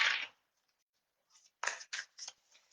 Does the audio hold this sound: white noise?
no